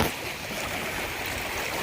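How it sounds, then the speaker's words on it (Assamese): Water of the wide Brahmaputra river near a dam rushes and churns in a steady, loud, unbroken wash of noise as rain begins, with no talking. "পানীবোৰ চোৱা কিমান ধুনীয়াকৈ আহি আছে"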